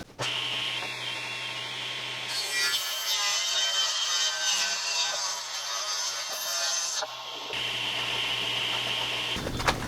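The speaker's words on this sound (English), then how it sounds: "all I'm doing is running the table saw. I'm gonna freehand cut them" A table saw rips freehand through wood for table legs, a steady whirring hum with a harsher cutting rasp rising through the middle as the blade bites, then easing back to the free-running drone.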